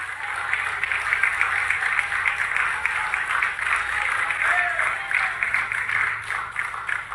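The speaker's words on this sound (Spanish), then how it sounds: "Si lo va a aplaudir al Señor, apláudalo fuerte" A church congregation applauds in a steady wash of clapping that holds evenly for several seconds, with voices mixed in.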